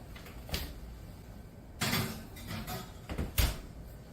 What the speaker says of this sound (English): I'm just going to pop these in the oven